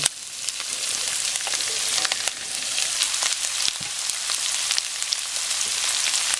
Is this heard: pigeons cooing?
no